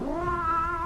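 A single drawn-out cat meow used as a sound effect in a radio comedy set in a pet shop, close and clear, with a rising, wavering tone and no talking over it.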